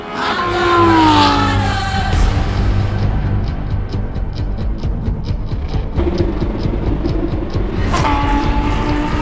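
A Lamborghini Huracán race car in a Lamborghini Cup round at Sepang, its engine running rough and faltering, a loud rumbling drone with rising whines and uneven pulsing, heard under close crowd and track noise.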